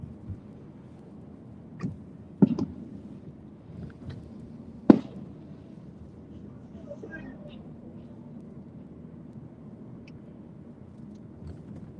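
Neighborhood fireworks bursting in the distance: a few scattered sharp pops and cracks, the loudest about halfway through, set against a constant low hum of outdoor background noise.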